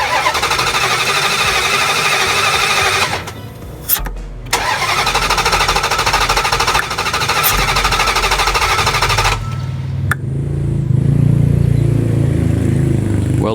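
A 2005 Dodge Durango with a no-start fault cranks repeatedly, its starter whirring in long rhythmic bursts that stop briefly, resume, and then break off without the engine ever catching. The sound is loud and close, with no talking.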